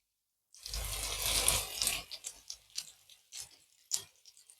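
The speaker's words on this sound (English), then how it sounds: "Sizzling and bubbling." Danish frikadeller meatballs sizzle in a frying pan, a burst of hissing fat at first, then settling into quieter crackles and pops.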